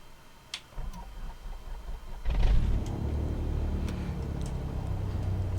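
A propeller aircraft engine in Microsoft Flight Simulator 2020 starts, with a few clicks and ticks before the engine catches with a sudden rumble and settles into a steady low drone.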